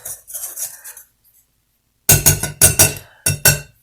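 Bread dough for a no-yeast loaf being stirred in a bowl with a dough blender, giving a run of clinking, scraping metal-on-bowl strokes, first lighter and then a louder series of rhythmic bursts after a short pause.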